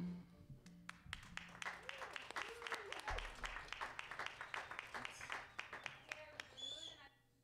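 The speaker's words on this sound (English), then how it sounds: "I'm going to fade the applause out." Recorded applause plays back while being edited in Adobe Audition, a quiet patter of many hands with distinct sharp claps, with someone talking over it.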